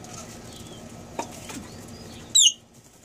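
Hill mynahs, also called Java mynahs, at their nest during breeding. There are soft wing flutters and rustling, then one short, sharp, bright call close by.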